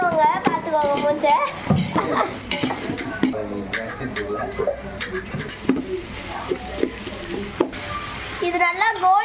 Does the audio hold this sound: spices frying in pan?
yes